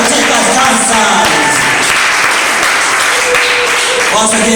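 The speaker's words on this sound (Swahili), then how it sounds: "Makofi mazito katika dancers." Audience applause for dancers at the Pot Culture Concert 2020, dense and steady clapping filling the whole stretch, with crowd noise and some voices mixed in.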